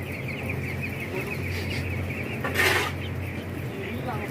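Chickens cluck softly and continuously in the background, with one louder squawk partway through, over a low steady hum.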